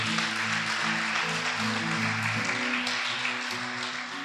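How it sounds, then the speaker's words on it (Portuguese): A church congregation applauds during a service, steady clapping blended with sustained low musical tones from instruments, holding at a full, even level throughout. "Diga amém e dê um aplauso ao Senhor Jesus."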